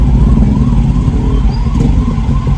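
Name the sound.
ambulance siren in traffic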